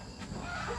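Chickens cluck in a rural yard, a brief cluster of close, busy fowl calls over steady background noise.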